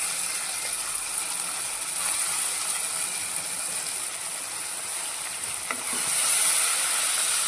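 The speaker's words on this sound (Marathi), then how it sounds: "आता मी त्यात घालणार आहे टोमॅटो" Tomatoes go into a pan of golden-brown onions, and a steady sizzle of frying runs throughout with scraping stirring noises and a brief clatter near the end.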